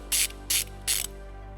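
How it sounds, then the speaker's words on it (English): Three quick ratchet bursts from a 12mm socket loosening the positive battery post nut on a 2016 Toyota RAV4, each a crisp, close metallic clicking run of about a tenth of a second, separated by short pauses over a steady low hum. "We're going to remove this nut using a 12mm socket."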